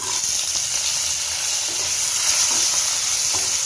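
Ginger and garlic fry in hot oil for an egg curry, giving a steady, close sizzle with light stirring scrapes throughout and no talking.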